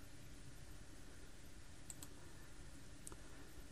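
A few faint computer mouse clicks on a Facebook page on a PC, two close together and then a single one, soft against a steady background hum with no talking.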